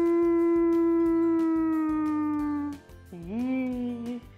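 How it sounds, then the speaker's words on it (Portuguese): One long, high wolf howl holds steady and slowly falls, then a second shorter howl rises and bends down, loud and clear, no talking. "É o lobo. Um som comprido, agudo."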